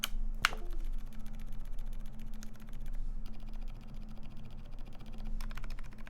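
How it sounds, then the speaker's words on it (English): Clacky typing on a custom mechanical keyboard with lubed stabilizers, the spacebar landing with a deeper thock among quick, close keystrokes over a low steady hum, no rattle. "Oh, hear the spacebar"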